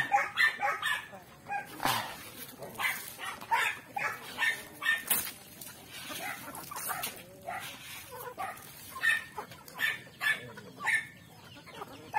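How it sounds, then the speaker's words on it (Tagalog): Several dogs bark intermittently among clucking chickens on a poultry farm, with repeated sharp calls spread across the clip at moderate loudness and no talk over them. "maingay po yung mga aso natin"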